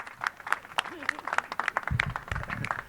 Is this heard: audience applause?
yes